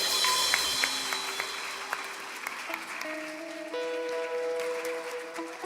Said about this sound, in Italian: Possiamo fare un applauso ancora più forte